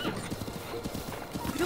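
Hooves clip-clop in a quick, uneven galloping rhythm with a brief whinny, a horse running in a video game, close and steady throughout.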